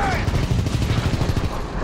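Dense battlefield gunfire from Call of Duty WWII, a rapid, continuous rattle of shots at close range that fills the whole moment, with shouting voices mixed into the combat noise.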